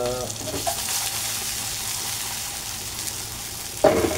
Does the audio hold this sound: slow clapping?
no